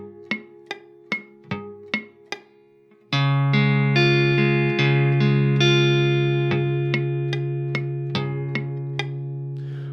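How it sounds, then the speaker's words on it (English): Guitar notes picked one at a time as an arpeggio, first as short clipped plucks, then ringing chord tones that sustain and layer over one another, close and fairly loud with no talking, in an ambient chord-muting exercise. "you can play arpeggiated notes like this, and then arpeggiate the three notes that should be muted."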